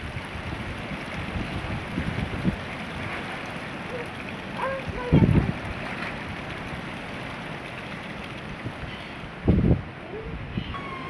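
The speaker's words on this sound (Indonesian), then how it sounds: "beginilah keadaan angin yang sangat kencang" Very strong La Niña storm wind in Bajawa town, a steady broadband roar with two louder gusts or thumps around five and nine and a half seconds, close to the microphone.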